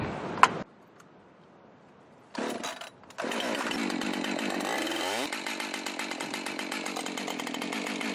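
A chainsaw cutting apple wood from a tree starts with a brief click and a short sputter after silence, then revs into a loud, continuous pulsing drone that holds to the end.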